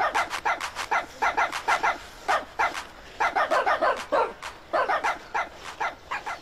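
Several dogs barking repeatedly in quick irregular bursts, moderately near and fairly loud, with no talking over them.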